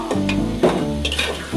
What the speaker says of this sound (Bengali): মাংসটা দিয়ে দেখেন কষাইতেছি ভালো করে,